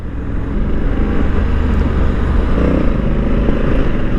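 A Honda Africa Twin BS6 adventure motorcycle rides through city streets, its engine giving a steady, loud, low drone mixed with wind and road rumble throughout, with no speech heard.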